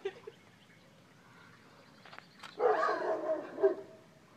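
Dogs bark and yelp in a short excited burst near the end, after a quieter stretch with faint clicks, moderately loud and close by.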